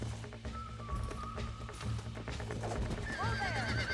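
Horse neighs and whinnies in Red Dead Redemption, with a rising whinny near the end over clip-clopping hooves, game music and ambient bed, and a brief voice in the background.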